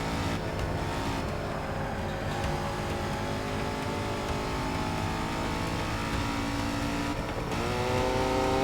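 A NASCAR race car engine in the Forza 6 racing game roars continuously at high revs, loud and sustained with shifting pitch as it passes other cars.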